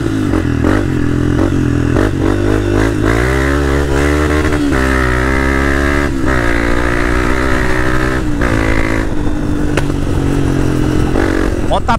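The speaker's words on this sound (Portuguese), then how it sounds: "Moto tá pipocando hoje, viu?" A motorcycle engine runs steadily on a muddy trail in the rain, its loud rumble shifting pitch as the rider works the throttle, with clattering and scraping along the way.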